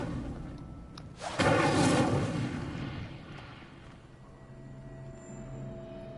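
An Incendio fire spell is cast in Hogwarts Legacy, opening with a sudden burst and whoosh of flame that roars loud, then fades over a couple of seconds into a quiet background.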